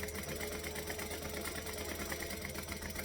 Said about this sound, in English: I'm stitching right on that edge